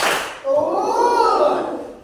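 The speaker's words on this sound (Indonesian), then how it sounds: "Oke, tepuk tangan semuanya" A group of students in a classroom claps together in a clapping game, with a short burst of claps followed by a voice calling out over a sustained cheer-like hum from the class.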